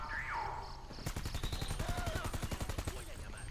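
Rapid bursts of automatic gunfire in GTA Online, a fast regular rattle of close shots running steadily after a brief quiet opening, with a tone sliding in the background.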